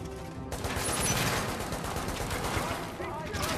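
Turret gunfire in The Division video game, a dense continuous rattle of rapid shots running almost the whole time after a brief quieter start, loud and close, with a voice faintly present underneath.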